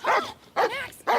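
A dog rescued from a shelter barks three times in quick succession, close and loud, with short yelping tones between each bark.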